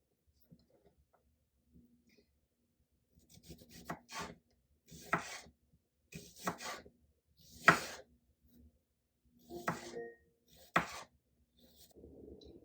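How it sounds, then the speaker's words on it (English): Peaches sliced with a knife on a cutting board for a peach salad, a series of about seven separate slicing strokes with a rasping cut and board tap, close and quiet, with no talking. "So I'm just going to slice these down."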